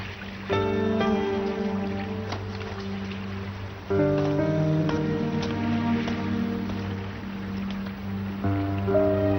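Steady rain falls in a scene from a Turkish drama, a continuous wash of drops under a droning, tonal background that swells in loudness twice.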